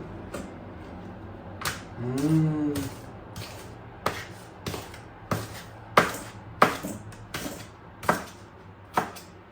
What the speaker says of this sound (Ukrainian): Капусточку я її буду нарізати ось такими кусками.